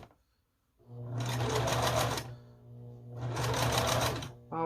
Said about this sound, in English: you have some thick seams on this one, so I sew a lot slower